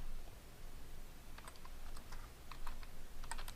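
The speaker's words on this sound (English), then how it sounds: "We're going to type in our password" A password typed on a computer keyboard: sparse, light key taps in small clusters during the second half, faint beneath a steady hiss of room noise.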